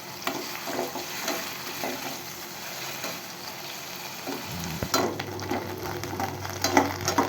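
Cubes of paneer sizzle as they fry in butter in a pan, a steady close hiss that grows louder and livelier partway through, with occasional stirring scrapes.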